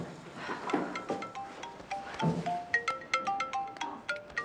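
A mobile phone ringtone plays during an office meeting, a clear melodic sequence of bright tones repeating in a steady rhythm and getting louder and more distinct toward the end.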